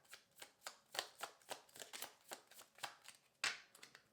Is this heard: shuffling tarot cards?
yes